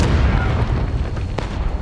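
In the Civil War video game War of Rights, a cannon blast rumbles loud and deep with a rolling low boom, followed by a sharp crack near the end amid dense battle noise.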